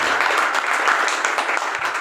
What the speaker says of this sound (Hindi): एक बार जोरदार तालियां आप सभी के लिए।